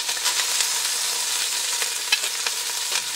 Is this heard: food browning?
yes